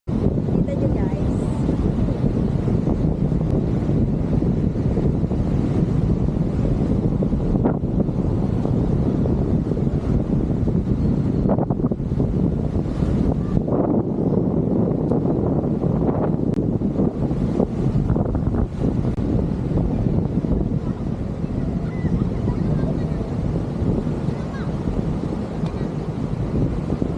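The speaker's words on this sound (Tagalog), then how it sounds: "Ang laki ng alon." Strong wind buffets the microphone on a boat trip in the Philippines, with a steady roar of wind and rough water from big waves running loudly and continuously throughout.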